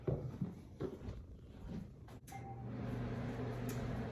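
A few clinks and a door-like clunk give way to a steady low electrical hum with a faint tonal whine, like a microwave oven starting up and running.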